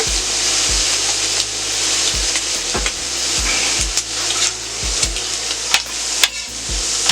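Minced garlic hitting a hot Steelmadeusa griddle during a jambalaya cook, with a loud continuous sizzle close by and regular scraping strokes of a spatula across the steel, no voices.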